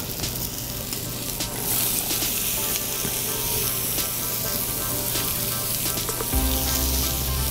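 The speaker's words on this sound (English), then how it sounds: "We're gonna let this really sear, caramelize" Beef tenderloin searing in a hot pan, a loud dense continuous sizzle heard close up, with a brief shift in tone as the meat is rolled near the end.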